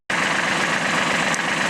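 A tractor engine idles loudly and steadily nearby after a sudden start, a continuous low rumble with mechanical vibration and no talking.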